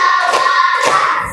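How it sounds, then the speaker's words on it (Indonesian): Children in a classroom clap hands in a counting clap game, a quick run of sharp, close claps against a steady tonal background, loud and without talk. "tepuk 1, tepuk 2, tepuk 3"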